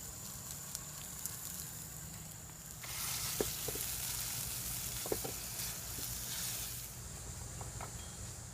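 Crumbled meat sizzles and browns in a preheated cast iron Dutch oven, with a soft steady frying hiss that swells louder midway, broken by occasional clicks from stirring.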